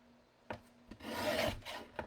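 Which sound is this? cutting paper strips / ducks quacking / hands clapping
cutting paper strips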